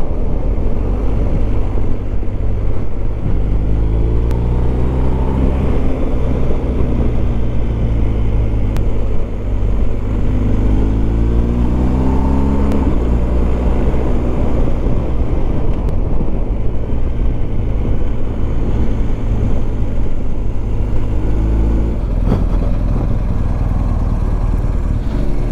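Motorcycle riding along Peak District roads toward Bakewell and Matlock, a continuous loud engine drone rising and falling through gear changes, heavily buffeted by wind noise on the microphone.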